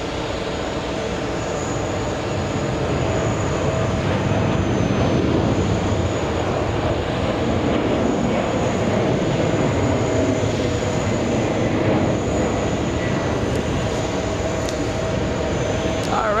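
A Delta Air Lines Boeing 767 jet departs JFK, its engines a steady broadband roar that swells slightly and holds loud for the whole stretch, with faint distant airport noise behind.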